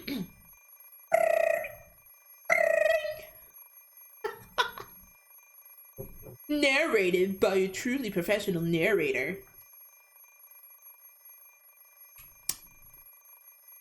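An alarm clock rings in the Fate/stay night visual novel game, in a loud burst from about 6.5 to 9.5 seconds, with narrated speech before and after it.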